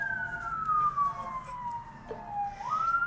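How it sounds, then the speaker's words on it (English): An ambulance siren passing on the road, its wail sliding steadily down in pitch before rising again, moderately distant over a constant traffic rumble. "Ambulance going by"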